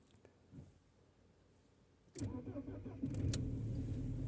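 Audi A6 C5 with a 2.0 ALT engine that idles unevenly when cold cranks and fires after a quiet pause, catching into a close rumbling idle that grows louder and settles.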